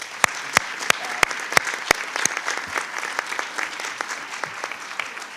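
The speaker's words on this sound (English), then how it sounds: "Another round of applause for Fahad, please" Applause at a Prince William County school board meeting honoring a student, opening with several sharp, evenly spaced claps before spreading into lighter, scattered clapping from the room.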